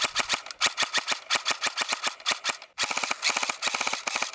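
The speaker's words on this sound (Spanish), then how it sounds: "os voy a enseñar cómo le disparamos a este arbusto" G&G Raider 2.0 airsoft gun with MOSFET and electronic trigger firing outdoors at a bush, rapid bursts of sharp mechanical clacks, loud and close, with a brief pause before a dense final burst.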